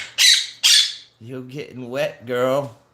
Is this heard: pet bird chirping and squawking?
yes